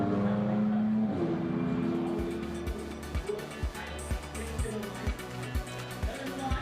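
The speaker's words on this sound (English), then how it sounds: "the number 66 car, there it is, cruising back in" The number 66 GT4 race car cruises back in during qualifying at Misano, its engine note rising then settling into a rhythmic, pulsing drone close by, with a voice talking over parts of it.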